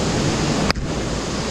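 A waterfall rushes inside a cave, a steady, close, broadband roar of falling water with one brief sharp tick partway through.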